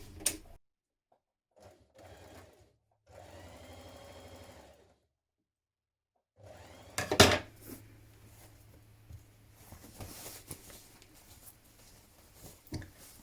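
A domestic sewing machine stitches a dress sleeve seam in short bursts of whirring, separated by pauses and light handling clatter, quiet and close.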